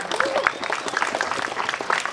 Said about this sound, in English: Give it a round of applause for you,